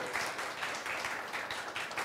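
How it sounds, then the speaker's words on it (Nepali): An audience in a church hall claps for young players holding a trophy, a steady wash of many hands applauding at moderate volume. "हाम्रो खेलाडीलाई ताली बजाइदिनुहोस्।"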